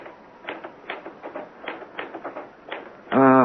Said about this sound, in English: Why did I never learn to work a typewriter?